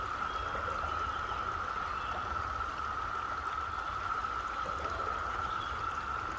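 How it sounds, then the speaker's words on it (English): Continuous babbling of a shallow creek, a steady, even rush of water that stays constant throughout. "I simply love the sound of running water through the creek."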